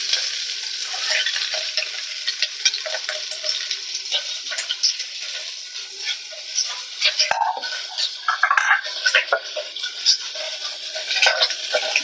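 Curry leaves, garlic cloves and onion fry in hot oil for a sambar, a bright, continuous close sizzle broken by crackling spurts and occasional stirring clatter against the pan.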